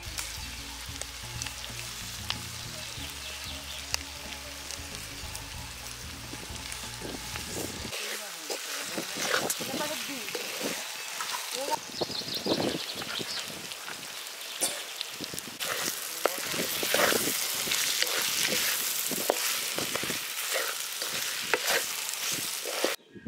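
Curry leaf chicken fry crackles and sizzles in hot oil in a pan, a dense steady frying hiss throughout with stirring scrapes, growing louder in the second half.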